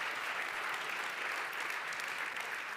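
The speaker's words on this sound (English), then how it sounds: "Applause again for you guys." Applause fills an award ceremony hall, a soft, continuous wash of many hands clapping at a distance, steady and fairly faint with no distinct individual claps.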